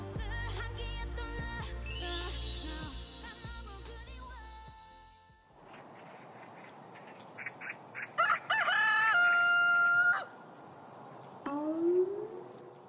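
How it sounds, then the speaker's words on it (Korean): A rooster crows near a home on Ganghwa Island, a rising, held call over a hissing background, following a stretch of music with some chime-like tones. "닭이 많이 울어요"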